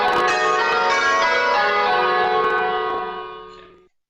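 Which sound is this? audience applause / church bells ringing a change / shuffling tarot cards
church bells ringing a change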